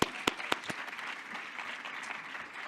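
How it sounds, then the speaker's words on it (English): A fairly faint round of audience applause at a judicial summit on mental health, steady clapping with a few sharper claps near the start. "Let's give them a loud round of applause, please."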